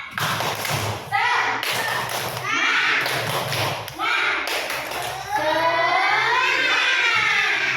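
Children chant and clap in rhythm in a classroom, sharp claps and thumps landing in bursts between short chanted phrases, with young voices loud and close throughout.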